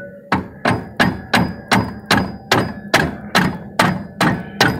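Hammer strikes on an old head bolt, used as a drift to drive out another bolt during rear spring replacement on a 1992 Ford Taurus wagon: ten loud, close metallic blows in a steady, even rhythm with ringing decay.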